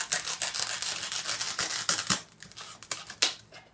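Scissors snip through a bendy, worn wire while making a fall door hanger, giving a run of sharp, close cuts and metallic clicks that taper into a few sparser snips.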